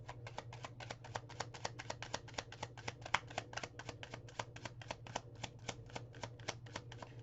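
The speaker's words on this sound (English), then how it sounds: "One last shuffle." Deck of Kipper oracle cards shuffled, producing a rapid, even run of crisp papery flicks, about thirty quick snaps in close succession, quiet but near.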